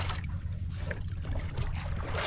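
Steady drone of a 22 HP engine on a small fishing boat, running continuously up close with low rumble and wind and water noise mixed in, no speech.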